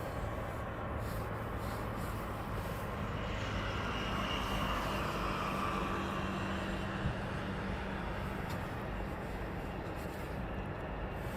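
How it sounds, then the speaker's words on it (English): An Aerologic Boeing 777 taxiing at East Midlands Airport at night: a steady, fairly distant jet engine rumble and whine holding constant throughout, with no talk over it. "So this is 777 taxiing off."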